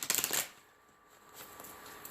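A deck of cards is shuffled during an astrology and meditation session, with a quick burst of crisp riffling snaps at the start followed by softer rustling and a few faint taps.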